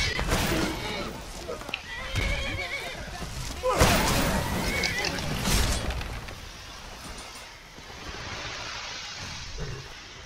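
A horse neighs and whinnies over a busy Skyrim game soundscape, with hoof clops and scattered crashes while a voice talks throughout.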